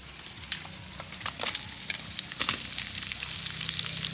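Chopped onion sizzling in hot oil in a pan, a soft continuous frying hiss with scattered pops and crackles, moderately close and alone.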